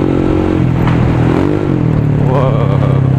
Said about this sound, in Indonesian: urusan exhaustnya atau knalpotnya, ini juga udah pakai yang racing punya ya.